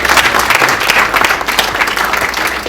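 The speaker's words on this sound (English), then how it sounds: "A round of applause for the butterfly IQ team." Audience applause for a medical ultrasound probe team at a maternal and newborn care launch event; dense, steady clapping from a crowd throughout, with no talking.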